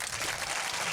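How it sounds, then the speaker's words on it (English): Brief burst of applause sound effect, a dense crackle of clapping hands from a crowd, loud and close, lasting under a second with no voices. "That's applause."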